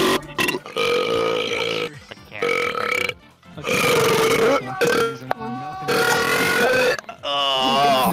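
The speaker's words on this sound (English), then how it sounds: "we need a fucking burping compilation" Long, loud, drawn-out burps repeat one after another in VRChat, separated by brief pauses and some background chatter.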